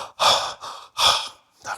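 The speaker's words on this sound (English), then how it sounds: "mouth open breathing, you typically breathe a bit faster" Fast open-mouth breathing, three quick loud breaths in close succession, each a breathy rush of air, heard up close with no talking.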